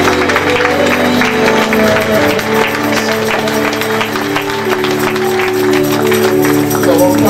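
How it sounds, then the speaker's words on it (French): A church congregation applauds and cheers loudly in a steady, dense wash of clapping and voices that lasts throughout, with sustained musical tones underneath. "l'assemblée acclame très fort le Seigneur"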